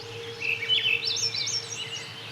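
A single bird in a forest sings a clear, high warbling phrase of rising and falling whistled notes, moderately close, over a quiet steady background hum.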